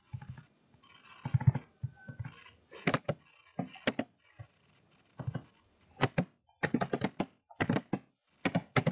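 Keys clatter on a computer keyboard in quick, irregular bursts of close clicks with brief pauses between runs, and no one speaks.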